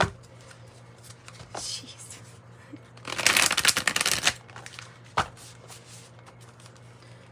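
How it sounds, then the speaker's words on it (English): A Spirit Animal Oracle card deck being shuffled and bent, with a loud riffling burst in the middle, soft handling rustles around it, and a brief snap near the end; a voice mutters once. "Wow, I'm just bending up the cards."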